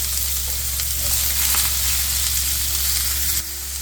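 Onions and carrots frying in a pan for pea and ham soup, a loud continuous sizzle with a faint hum beneath, close up and without talk.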